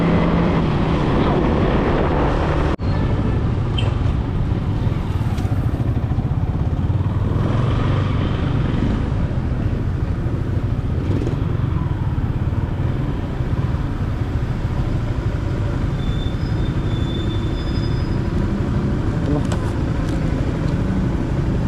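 Cars and motorcycles pass at a roadside checkpoint, a continuous loud rumble of engines and tires going by nearby, with voices faintly mixed into the traffic throughout.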